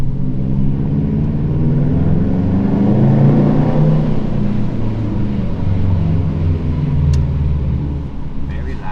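A 2020 Subaru WRX STI engine rumbles loudly and steadily up close, a deep sustained drone with no clear rev peaks, running alone throughout.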